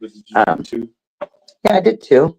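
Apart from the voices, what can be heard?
No everyday noise stands out behind the speech.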